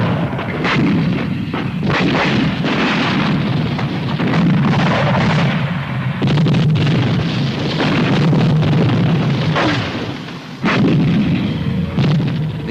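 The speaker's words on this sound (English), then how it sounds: "the artillery will put down covering fire, which may include smoke, in support of the attacking tanks and APCs" Artillery covering fire pounds continuously in support of attacking tanks and APCs, a dense rolling barrage of booms and blasts with no pauses, loud and near, one deeper drop around the tenth second before the shelling resumes.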